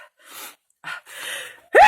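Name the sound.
sneeze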